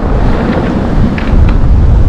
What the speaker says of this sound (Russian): Как видите, ветер ураганный.